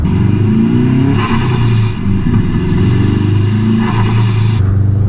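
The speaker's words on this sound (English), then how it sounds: "The HKS SSV on this with the K&N air filter just makes the right noise" A modified 1996 UK-spec Subaru Impreza with an HKS SSV valve and K&N air filter, loud and close, its engine droning steadily with two revs that rise and fall over the running note.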